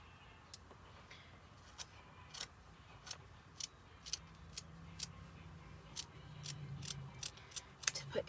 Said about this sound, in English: So I'm just going to cut me a piece of burlap.